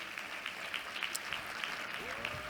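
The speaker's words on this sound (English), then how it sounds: "Let's give them a big round of applause, ladies and gentlemen." A conference audience at a central banking and payments event applauds steadily, with the clapping fairly distant and even. Faint voices carry underneath.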